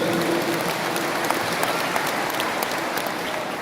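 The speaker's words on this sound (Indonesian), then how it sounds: "Tepuk tangan untuk dia." Steady, dense applause from an audience at an Indonesian speech event, holding loud and even for the whole stretch with scattered sharper claps on top.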